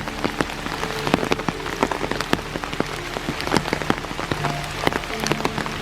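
Steady rain falling in a forest at Iroquois Park on a foggy morning, with dense pattering drops hitting leaves and surfaces nearby, continuous and fairly loud with no voices.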